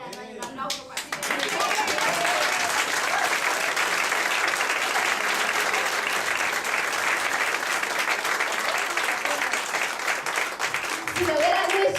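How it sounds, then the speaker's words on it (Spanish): A church congregation breaks into sustained applause during a sermon, dense and steady clapping filling the room for most of the stretch after brief speech at the start, with voices faintly underneath. "un aplauso para ti"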